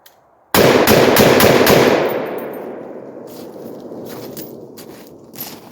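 An AR-10 rifle fires a quick string of about five loud, close shots, followed by a long fading echo and quieter clinks.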